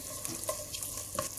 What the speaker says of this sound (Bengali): মশলাটা তেলে ভুনে নিলাম